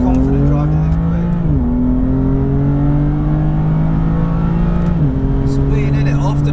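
A 2017 BMW M4 CS engine pulls hard and steady inside the cabin, its droning note climbing through gears with two clear shift drops, the turbo building thrust, loud and close with no talk over it.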